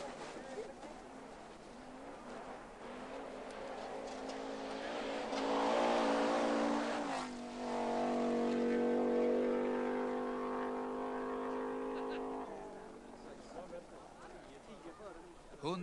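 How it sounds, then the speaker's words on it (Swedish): Rally cars at the 1986 Swedish Rally race past in the forest at speed. A distant engine note swells into a loud, revving pass, then fades away, under steady spoken narration. "rallybilar som passerar en gång i minuten i drygt 150 kilometers hastighet"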